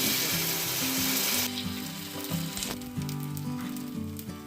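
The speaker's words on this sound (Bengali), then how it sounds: "এরম এক হাতা তুলে এই প্যানের মধ্যে দিয়ে দেব" Patishapta pitha batter, Bengali style, is ladled into an oiled pan and sizzles loudly and densely for the first second and a half. The hiss then drops to a softer crackle under steady background music.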